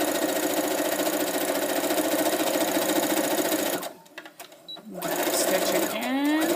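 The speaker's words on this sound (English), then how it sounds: "I'm going to do a line of straight stitching down the edge of my seam allowance." A sewing machine runs straight stitching along a seam allowance edge, a steady close rapid whirring hum that stops briefly and then starts up again, with quiet talk in the background.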